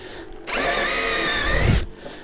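Close and loud, a power drill drills a pilot hole into a wooden beam on a building site, spinning up sharply into a sustained high whine for over a second before stopping abruptly.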